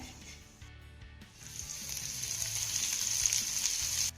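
Finely chopped onion hisses in a pan after poppy seeds and cumin, a close, continuous sizzle that swells louder and brighter partway through, with faint stirring beneath.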